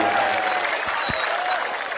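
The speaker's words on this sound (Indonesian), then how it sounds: "Tepuk tangan buat masyarakat Magetan" Dense, steady clapping from a large crowd at an outdoor religious gathering in Magetan, with a faint tonal whine and a couple of low thumps underneath.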